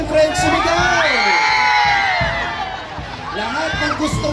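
A large festival crowd at Obando, Bulacan, shouts and cheers together in a loud, sustained roar that builds, dips briefly, and rises again, with overlapping voices, whoops and yells.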